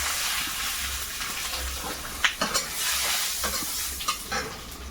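Dried red chillies and a bay leaf sizzle in hot oil in a kadai, a steady hiss broken by several short bursts of spattering and stirring in the middle of the clip.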